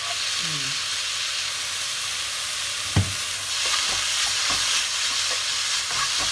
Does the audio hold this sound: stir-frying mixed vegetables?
yes